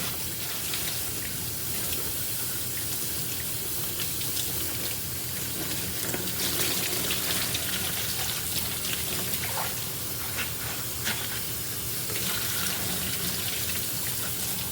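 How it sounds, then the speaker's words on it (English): Cabbage is washed under running tap water in a kitchen sink, a steady, close splashing and spattering stream that carries on without pause. "I'm going to wash this thing up really, really good."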